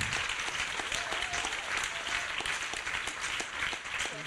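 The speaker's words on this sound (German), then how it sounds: "Gerne Applaus." Applause from the audience at the Goldenes Brett 2016 event in Vienna, a moderately distant, dense patter of clapping that stays fairly even. Faint voices and cheers sit underneath.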